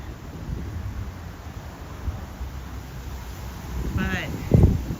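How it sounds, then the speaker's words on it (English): Wind gusting on Broadway in New York City, a steady rushing roar that covers the whole street scene, with a brief louder rustle near the end. "Okay, a little windy. I can see the trees moving."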